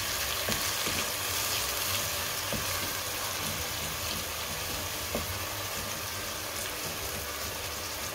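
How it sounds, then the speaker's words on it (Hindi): Chicken karahi sizzles and crackles steadily in a pan as yogurt is stirred in, with continuous frying hiss and occasional scraping stir sounds up close, no talking. "और अब हम इस पॉइंट पे 3 टेबलस्पून दही डाल देंगे और इसको अच्छे से मिक्स कर लेंगे।"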